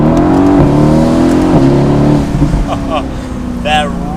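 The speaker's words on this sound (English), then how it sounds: "We'll do one last acceleration." A 2018 Mercedes-Benz AMG GT C Roadster accelerates hard with the top down, its engine note climbing loudly through gears and dropping at shifts, with a driver's voice speaking over it.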